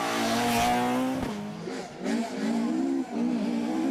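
A Ford Escort rally car racing on a stage of the Donegal International Rally 2018: loud, close engine revving hard, with a sharp gearshift and drops in pitch as it brakes and climbs again through corners.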